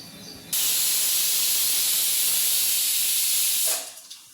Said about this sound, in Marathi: आता कुकरमध्ये याला दोन शिट्ट्या करून घेऊ आपण